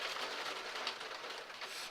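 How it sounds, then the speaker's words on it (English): Rain falling in a Minecraft modpack game, a soft, even broadband hiss that stays steady for the short stretch, faint and without voices. "I think you probably can hear the rain."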